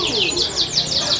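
Birds at a bird seller's shop give a dense, continuous run of high, rapid chirps and tweets, close and fairly loud, with overlapping calls throughout.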